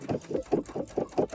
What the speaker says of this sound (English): So I'm sewing across the top